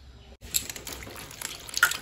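Cut mushrooms being rinsed in water give off splashing, dripping and trickling sounds close by, starting after a brief moment of near silence.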